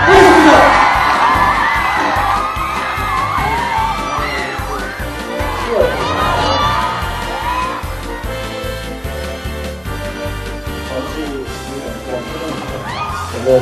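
A crowd at a film showcase cheers, whoops and claps loudly, with excited screams and shouting forming a continuous, close roar that slowly eases over several seconds.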